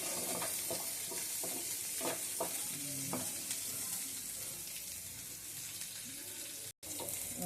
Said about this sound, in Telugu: ఆనియన్స్, పచ్చిమిర్చి వేసి వేసుకోండి. లైట్గా వేసుకుంటే చాలు.